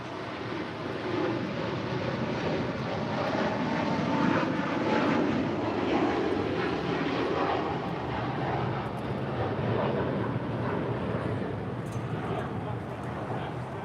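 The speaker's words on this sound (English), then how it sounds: "That was Cathay Pacific Flight 885 departing to Hong Kong. It's a 777-300ER in the One World livery." A Cathay Pacific Boeing 777-300ER in oneworld livery rolls and climbs out toward Hong Kong, a broad, steady jet engine roar that swells around the middle and holds loud throughout, with wind buffeting the microphone and people talking faintly beneath it.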